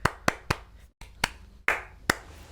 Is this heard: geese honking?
no